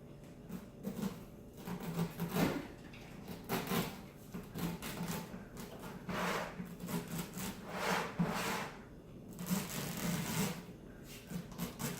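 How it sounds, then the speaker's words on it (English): Sides of a homemade top-entry cat litter box being trimmed, uneven rasping and sawing strokes in irregular bursts, fairly quiet and close, with no talking. "And I'm going to trim off the sides here."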